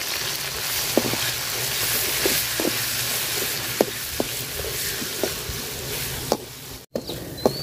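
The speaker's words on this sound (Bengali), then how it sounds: "মশলাটা আমি সুন্দর করে তেলের সাথে ভাজা নিছি" Ground garlic and cumin paste frying in oil with browned onions. A steady close sizzle and hiss with occasional sharp ticks from a spatula, and no one speaking.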